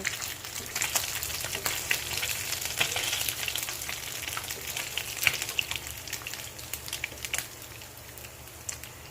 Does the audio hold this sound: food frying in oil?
yes